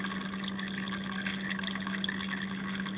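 Condensate water drains from a hole drilled in the muffler of a VAZ 2110 into a container, a steady, close trickling stream with a constant low hum beneath and no talk.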